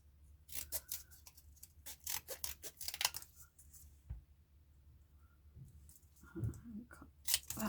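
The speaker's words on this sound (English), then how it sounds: "Just cut that edge off." Scissors snipping paper or card for a rose-themed craft, a run of quick close crisp cuts followed by quieter handling rustles and a few more snips, all fairly faint.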